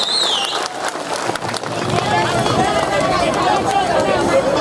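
An audience at a Telangana state formation day civic felicitation celebration claps together, a dense wash of applause rising and holding steady, with crowd chatter and a voice underneath.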